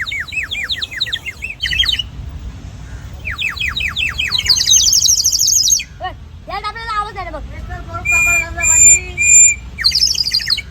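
A toy sparrow gives out loud, bright electronic chirps and trills in repeated bursts with short gaps between them, close up, with faint voices in the background.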